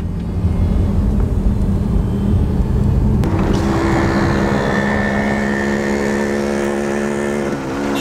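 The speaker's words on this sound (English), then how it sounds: "What an exhaust note." A BMW F10 M5 engine and exhaust roars loudly and steadily throughout, its deep drone rising into a higher, strained revving tone about halfway and holding there to the end, with no talking.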